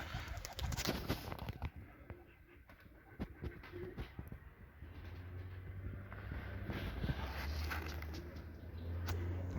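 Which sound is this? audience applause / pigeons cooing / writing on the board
pigeons cooing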